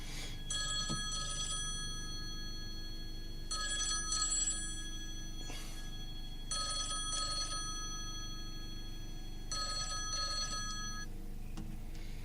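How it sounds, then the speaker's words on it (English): A telephone rings in four evenly spaced bursts, each a trilling double ring, heard against a quiet room background. "I've just lost my train of thought because that phone is ringing"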